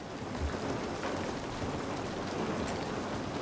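Heavy rain falling in The Last of Us Part 1, a steady dense hiss of downpour, moderately quiet and unbroken for a few seconds with no talk.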